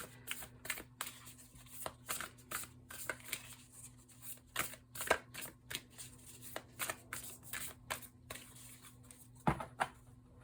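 Tarot cards shuffled by hand, heard close and quietly as a series of short crisp riffles and flicks in irregular bursts, with a faint steady hum underneath.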